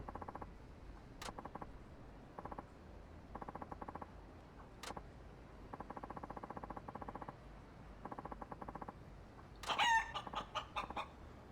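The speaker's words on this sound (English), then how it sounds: "that chicken noise is terrifying" A chicken in the video game Yakuza 5 lets out loud repeated clucks in rhythmic bursts, with a squawking crow-like outburst near the end over a steady game background hum.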